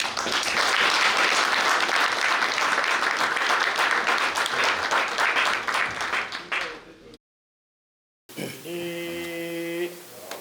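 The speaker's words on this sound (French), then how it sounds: "Une acclamation pour le Seigneur." Loud crowd applause and cheering at an official ceremony in Gabon, dense and sustained for about seven seconds before fading out. A short silence follows, then a tonal musical passage begins.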